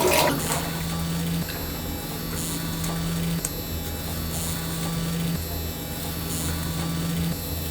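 Water from a bathroom tap runs steadily over a Gillette ProGlide Power razor, a continuous hiss with a low hum from the razor motor underneath, no talk.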